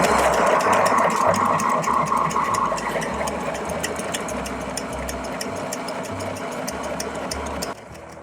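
A Sailrite sewing machine with walking presser feet stitches a seam through old sail fabric, a steady close mechanical hum with a rhythmic pulsing motor that runs continuously before cutting off near the end.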